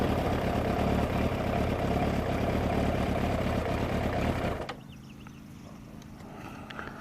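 A motorcycle engine starts and idles with a steady, dense low rumble close by, then cuts out abruptly partway through, leaving a quiet room with faint background noise.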